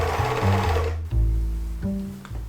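A sewing machine stitches a jersey knit neckline in close, quick bursts of rapid mechanical whirring. It stops briefly and starts again several times, with no talking.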